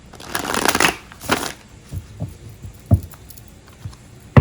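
Two quick riffle shuffles of a deck of cards, close up, followed by a few soft taps and card handling sounds.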